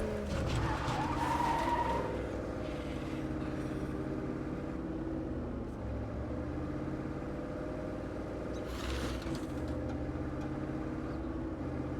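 Car in the zombie-survival game State of Decay 2, driving with a steady engine drone and tire skids, loudest in the opening seconds and again briefly near the end, with no talking.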